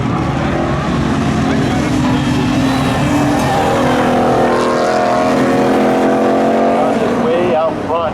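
Chevy Camaro and Pontiac Trans Am drag racing side by side at Seekonk Speedway spectator drags, loud sustained engine roar rising and shifting through gears, with an announcer talking over it throughout.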